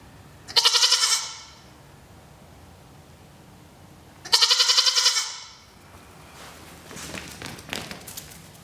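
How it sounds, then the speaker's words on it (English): Two loud, close goat bleats several seconds apart, followed by quieter shuffling and taps. "Goofy goats."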